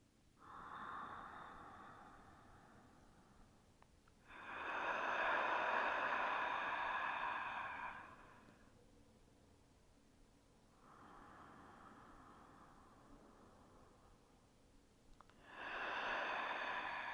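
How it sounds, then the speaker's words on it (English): Slow cleansing breaths during a yin yoga session, alternating soft inhales and longer, louder exhales, close and airy, about four breaths in a quiet room. "Taking a few rounds of cleansing breath."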